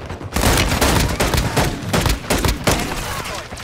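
Rapid video game gunfire crackles close and loud in a dense burst of shots with sharp repeated cracks for several seconds, while a voice briefly speaks underneath.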